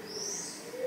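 Pigeons coo softly in a city setting in Florence, a brief low murmuring call heard alone at a moderate distance.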